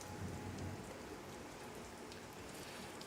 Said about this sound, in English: Tell me if you can hear this thunder